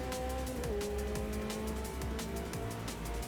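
Race car in the Automobilista 2 racing game, engine droning steadily and loudly throughout with repeated gear-shift pitch drops and occasional tire squeal, no talk.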